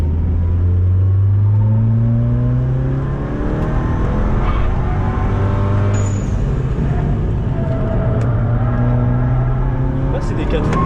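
Car on a race track, wheels spinning under partial throttle: a loud, close engine revving and surging in long pulls with a rough low rasp, while people talk over it.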